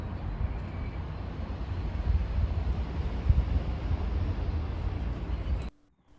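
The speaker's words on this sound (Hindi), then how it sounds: "आज भी हवा काफ़ी तेज़ है" Strong wind gusts through a garden under cloudy skies, a steady low rumble and buffeting on the microphone that goes on for several seconds and then cuts out abruptly.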